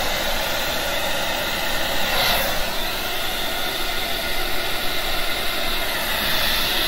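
A hair dryer blows steadily on alcohol ink artwork, a loud continuous close-up rush of air with no breaks.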